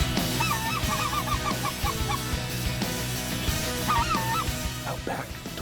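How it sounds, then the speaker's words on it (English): A flock of white-fronted geese, or specklebellies, honking over California goose-hunting ground, with repeated chattering calls in bursts over a dense, steady background of many more distant birds. "I hear a flock of specks down there"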